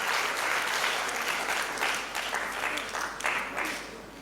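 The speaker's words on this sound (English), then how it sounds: "And one more round of applause for" Applause from the audience at a WAEC conference in Freetown, Sierra Leone, a broad steady wash of many hands clapping that swells and fades slightly over a few seconds.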